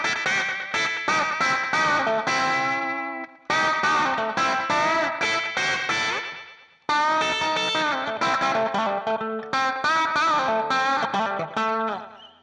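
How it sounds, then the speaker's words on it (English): An electric guitar on the bridge pickup, plucked with the fingers through effects, plays a bright, twangy rockabilly-style riff in quick repeated note runs with short pauses, loud and close, without speech. "Just bridge pickup, pick with the fingers."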